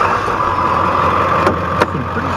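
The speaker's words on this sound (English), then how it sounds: "I do like to start the truck for you" A 2000 Ford F350 Super Duty turbo diesel 4x4 crew cab truck idles steadily, its engine a constant mid-range drone close by with a couple of brief knocks over the top.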